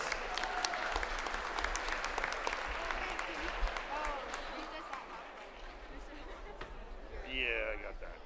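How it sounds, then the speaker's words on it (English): Crowd applause fills a high school basketball gym during a seniors' recognition at a boys' and girls' game, steady clapping with scattered voices and shoes squeaking, fading slightly then swelling again near the end. "Let's give one more round of applause"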